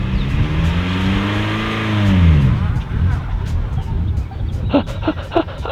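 A manual-transmission car engine revs up and falls, pitch rising and dropping as if through gear changes, with a voice talking over it.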